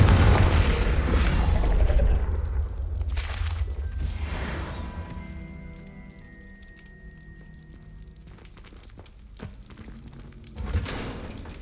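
A Confringo blasting spell explodes in Hogwarts Legacy gameplay: a loud, broadband boom and rumble that slowly decays over several seconds amid clattering debris, with a second, smaller thud near the end.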